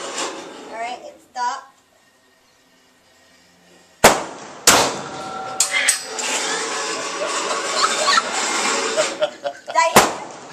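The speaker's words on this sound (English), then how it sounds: "And then whenever you're ready, you go ahead and fire one off." Two sharp, loud gunshots ring out a few seconds apart, with a third crack near the end, set among people talking and a sustained noisy wash between the shots.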